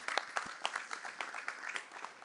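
A university board meeting audience gives a round of applause, scattered individual claps that are fairly faint and distant, pattering irregularly for a couple of seconds.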